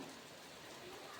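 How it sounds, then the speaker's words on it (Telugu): Heavy rain falling as a faint, steady hiss with no distinct drops standing out. "ఫుల్ వర్షం."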